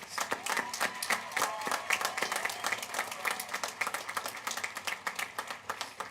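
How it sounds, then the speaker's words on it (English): At a W.F. West high school graduation, an audience claps for standing graduating students, a steady indoor round of many hands with distinct nearby claps, fairly even and continuous, no voices over it. "Let's give them a round of applause."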